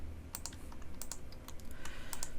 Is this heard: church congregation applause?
no